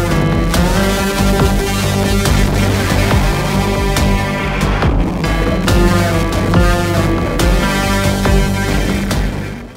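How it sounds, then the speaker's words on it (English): Guitar plays a non-chromatic melodic line during the bridge of a song, within a dense, loud full-band mix, with steady drums and sustained chords filling the background throughout. "There's another guitar part during the bridge that's not chromatic."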